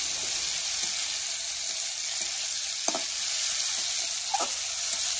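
Prawns frying in oil with bay leaf, dry chilli and panch phoron, giving a steady close sizzling hiss throughout, with a few faint clicks and light stirring touches.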